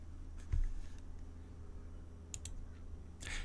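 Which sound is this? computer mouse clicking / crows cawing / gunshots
computer mouse clicking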